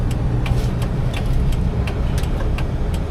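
A car makes a U-turn on a road past a wrecked truck, giving a steady loud engine and road rumble from inside the vehicle, with faint ticking clicks and no voices.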